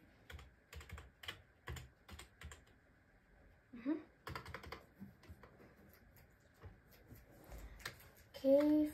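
Someone types on a computer keyboard while playing Roblox, producing quick bursts of crisp keystrokes with short pauses between them. Brief voice sounds come in near the end.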